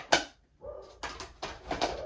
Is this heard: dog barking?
yes